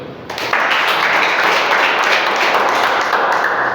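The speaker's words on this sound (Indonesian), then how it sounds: "Kasih tepuk tangan dulu." A congregation at a Thursday church service inside Tanjung Pinang prison bursts into dense, steady applause after a brief quiet start, many hands clapping loudly and evenly for several seconds with no talk over it.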